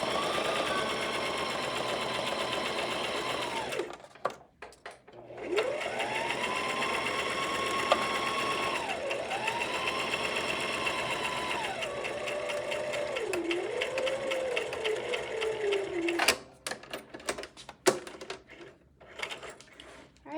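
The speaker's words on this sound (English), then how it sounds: "Then close your presser foot down again. Back stitch and straight." Sewing machine stitching fabric for a DIY scrunchie, running in a steady whirring burst, pausing briefly, then resuming with back stitching and straight stitching in several short runs that rise and fall in speed before stopping with a few clicks.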